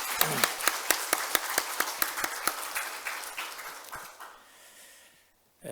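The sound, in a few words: congregation applauding in church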